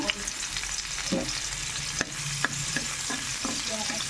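Garlic fries in hot oil in a pan for veg manchurian, giving a steady close sizzle with occasional sharp spoon taps and stirring scrapes.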